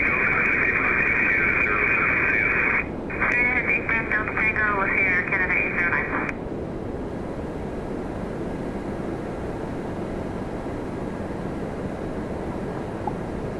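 Airliner landing hand-flown in a crosswind at Toronto Pearson. Radio chatter plays over a steady engine roar at first, then the roar carries on alone at a lower, even level.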